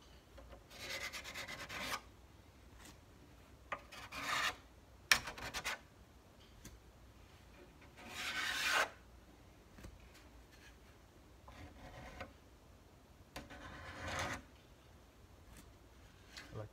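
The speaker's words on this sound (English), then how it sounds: "I like to scrape off some of that excess glue so it doesn't get in the way" A scraper removes excess glue from walnut binding on a nylon-string harp guitar, making repeated close, dry rasping strokes in short bursts separated by quieter pauses, with occasional small taps.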